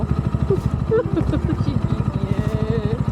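Steady low engine pulsing from a motorcycle, rising slightly as it moves off as a learner rider releases the clutch and adds throttle, with faint talk in the background.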